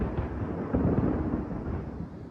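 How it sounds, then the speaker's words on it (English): Thunder rumbles during an outdoor lightning storm, a low, broad, continuous roll that swells slightly and holds steady for a couple of seconds without any voices. "Whew, got some lightning out here."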